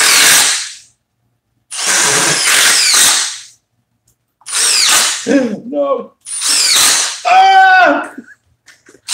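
DeWalt and Milwaukee impact drivers drive big lag screws in several loud, close bursts of rapid hammering, each lasting one to two seconds with pauses between, while a voice calls out briefly.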